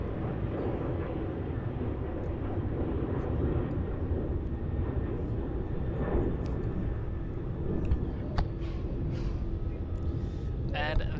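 A jet airliner taking off from runway 16 at Melbourne Airport, a continuous heavy low engine roar that swells and holds across the whole stretch, with faint talk and radio chatter over it.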